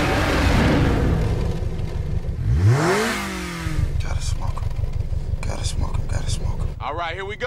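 An American muscle car engine revs hard in a street-race scene, a deep rumble that climbs into a sweeping roar and then settles into a pulsing idle, with speech heard over it.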